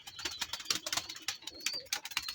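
Breeding pigeons coo softly in their coop, giving low, repeated calls mixed with light tapping and shuffling, faint and close.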